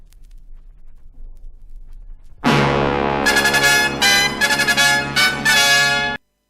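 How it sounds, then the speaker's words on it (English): A quiet low hiss and rumble of vinyl surface noise, then a sudden thump as the needle lands on an Aiwa PX-E740 record deck, followed by loud, full music. "I'm going to let you hear the needle drop and this general noise"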